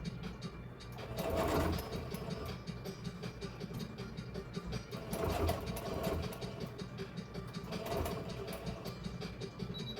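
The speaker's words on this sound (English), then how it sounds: "Not tacking, but sewing down." A sewing machine runs a straight stitch through layered fleece fabric for a knotted blanket, a steady rapid mechanical chatter throughout with a few louder surges as it speeds up.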